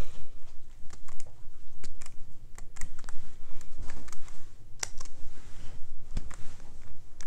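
Fast, continuous typing on a computer keyboard while hacking Minecraft on a Kano, close and steady clicking throughout with a few louder key strikes.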